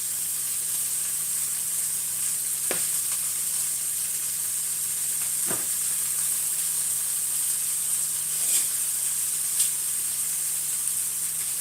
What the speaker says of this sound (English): Just moving the chips around in the oil a little bit to make sure they all cook evenly.